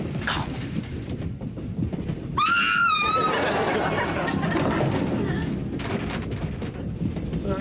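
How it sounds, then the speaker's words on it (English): A woman's shrill, wavering scream aboard a moving train rises briefly over rumbling carriage noise, with people talking before and after. "I thought I heard screaming."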